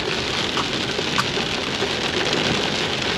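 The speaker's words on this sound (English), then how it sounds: "as soon as we pulled out, it started raining more." Heavy rain falls steadily and densely on surfaces close by, a constant pattering wash with no voices or breaks.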